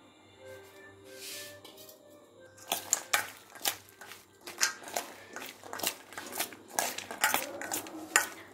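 Peanuts tumble into a pan of mixed chana, giving a run of sharp clicks and clatters that grows busier and louder after a quieter start, close and without any talk.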